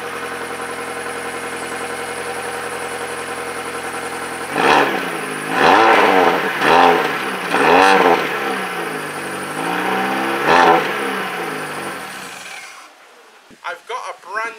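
A Mini car engine with a stock stainless steel exhaust idles steadily, then revs up sharply several times in short bursts before settling; close and loud, with a brief voice near the end.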